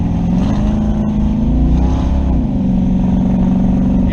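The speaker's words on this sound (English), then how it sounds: "I'm going to try to give it gas. This is what it's doing. It's catching and jerking." Car with Holley EFI and a turbo 350 transmission revving in second gear, loud and close, the engine note rising and dipping as it catches and jerks under throttle, no speech.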